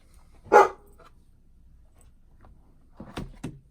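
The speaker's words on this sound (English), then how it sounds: "heel dog wanted to start barking" A house dog gives one sharp bark nearby, then after a pause a few more quick barks mixed with soft knocking and handling sounds.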